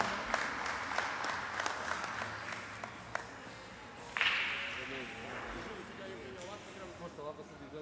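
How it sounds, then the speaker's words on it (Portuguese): Applause for a pool tournament finalist at a Portuguese pool awards ceremony, a scattered round of clapping from a small indoor crowd with sharp individual claps, fading out under a murmur of talk. "José Júlio, uma salva de palmas."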